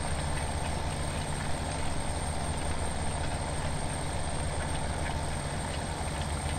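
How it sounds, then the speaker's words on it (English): Farming Simulator 17 tractor engine revving near its maximum RPM, a steady, loud, unbroken drone with a dense hum and no talking throughout. "And it's running nearly as high RPMs as it can."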